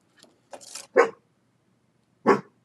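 A dog barks several times, sharp, close barks in two quick bursts, then one more after a short pause, with a quiet background.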